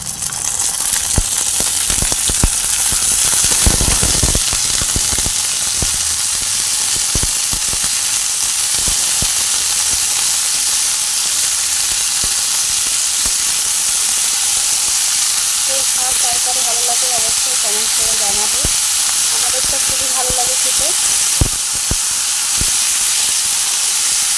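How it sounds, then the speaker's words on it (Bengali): Greens hit hot fried onion in a pan and sizzle in a loud, steady, continuous hiss lasting throughout, with someone talking faintly over it. "আচ্ছা তো দেখো পেঁয়াজটা ভাজা হয়ে গেল আমি শাকটা দিয়ে দিচ্ছি"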